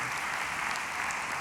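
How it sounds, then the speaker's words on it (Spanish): An audience claps steadily throughout a short stretch of applause at a church service during the Santiago en Llamas 2023 gathering. "Le das aplausos sonoro"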